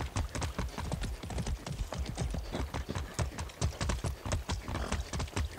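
Horse hooves clip-clop at a steady trotting rhythm in the video game Far Cry 6, close and fairly loud, with the hoofbeats carrying all the way through.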